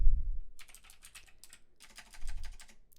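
Rapid keyboard typing clicks in quick bursts, close up, with a brief pause mid-way and low thumps underneath.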